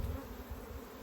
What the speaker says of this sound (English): we've still got a lot of bees